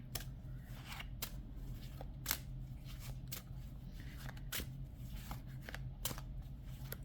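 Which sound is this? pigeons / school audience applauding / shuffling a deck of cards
shuffling a deck of cards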